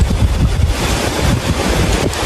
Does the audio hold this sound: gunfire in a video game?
no